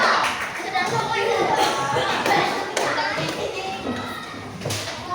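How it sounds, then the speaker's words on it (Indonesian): Fifth-grade primary school classroom children applauding a group, with a dense wash of clapping and chatter throughout, kids' voices rising over the steady applause. "tepuk tangan untuk kelompok 2 mendapat bintang"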